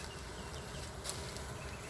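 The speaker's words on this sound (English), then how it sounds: "My Russian bees just came by UPS" Live packaged Russian honey bees buzz as a dense, steady hum in a box just delivered by courier, a continuous close drone with no voices.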